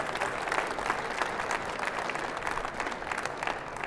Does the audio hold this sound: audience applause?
yes